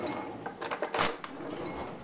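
A spoon clinking and scraping against a dish while mixing in a home kitchen, a few sharp metallic taps clustered in the middle over quiet room noise.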